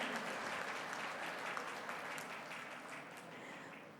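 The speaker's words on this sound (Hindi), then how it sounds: "एक बार जोरदार तालियों के साथ" Sustained applause from a large audience at the inaugural session of an urban mobility conference and expo, welcoming a government minister on stage; a steady, dense wash of clapping that fades slightly toward the end.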